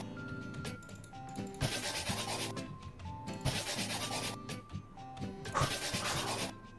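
Footprints are scrubbed off a shop floor in the game Ice Cream Simulator, three repeated bursts of quiet, hissy rubbing strokes over soft in-game background tones, fairly faint overall.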